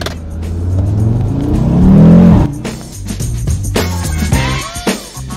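An Audi RS Q3 Sportback accelerating hard, its engine note climbing loudly to a roaring peak, then dropping through a gear change before pulling again, close and dominant.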